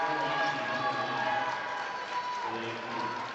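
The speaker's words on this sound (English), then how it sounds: "the Viking crowd comes to life for Jerome Washington." A home crowd cheers and shouts at a college basketball game in a gym, a broad sustained roar at moderate distance, with voices mixed in.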